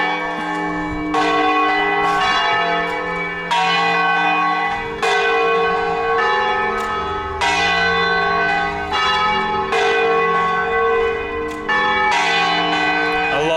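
Church bells ring out over a small Portuguese town, a series of loud, resonant strikes in a slow irregular rhythm, each tone hanging and overlapping the next, heard from nearby with no talking.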